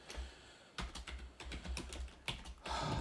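Quiet keystrokes on a computer keyboard patter in uneven bursts over a steady low hum, with a faster flurry of clicks at the end and no voices.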